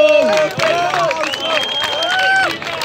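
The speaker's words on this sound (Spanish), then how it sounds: "¡Fuerte aplauso para Pipe!" A crowd at a regional freestyle rap battle in Ibagué applauds and cheers, a steady roar of claps and shouting voices filling the whole stretch with no pause.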